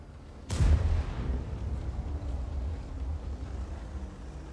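An artillery shell fires and lands in World of Tanks, one sharp loud boom followed by a long rumbling decay that fades under low background noise.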